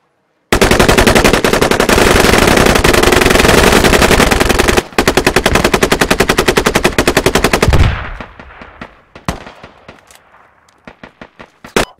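Sustained light machine gun fire in the video game Squad, long rapid bursts of loud close shots with a brief pause, then trailing off into scattered distant single shots.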